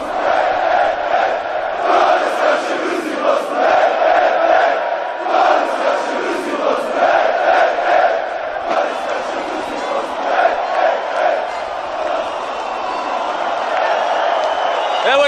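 A large crowd of football fans in a stadium chants and cheers in a loud, continuous roar, with rhythmic swells of shouting and whoops that carry on without a break.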